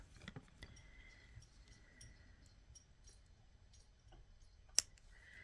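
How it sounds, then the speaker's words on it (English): Jewelry wire trimmed from a necklace with cutters: one sharp, faint snip lands near the end of an otherwise quiet stretch with soft handling clicks. "cut this extra wire off"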